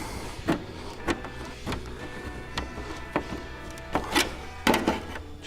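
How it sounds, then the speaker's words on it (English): Green-handled tin snips cut car body sheet metal during a hand-tool rust repair on a boot panel, close, uneven crunching snips spaced about half a second to a second apart. "Just using my whisk snips, green handles, to cut that piece through there."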